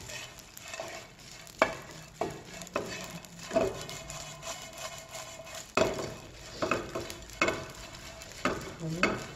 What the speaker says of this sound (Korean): 이렇게 새우를 넣고 타지 않게 먼저 마른 팬에다가 볶아줍니다.